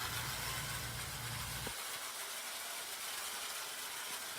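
A pre-war American Flyer 3011 model train engine runs on track at a low speed setting, giving a steady, fairly faint mechanical whir and rumble that drops away partway through.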